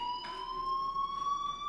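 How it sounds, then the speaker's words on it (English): A steady electronic fire alarm rings inside a school building in the Life is Strange video game, a continuous high tone holding without pause, with no speech. "do you hear that fire alarm?"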